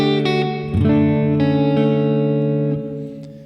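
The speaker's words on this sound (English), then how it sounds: "And this is a hall reverb," A guitar played through a practice amp on a hall reverb setting: several picked notes and a strummed chord ring out loud and sustained, blooming into a long, spacious wash before fading, no voices.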